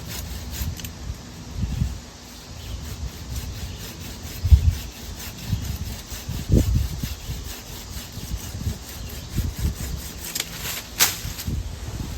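A handmade pole saw lashed with kudzu cordage cuts through a branch about 12 feet up, giving repeated rough rasping strokes at an uneven pace, close and without talk.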